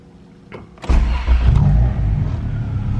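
A Honda Civic EK hatch with an LS VTEC B18 engine cranks briefly on a dyno, then fires up loudly and settles into a deep, steady idle rumble, close and without talk.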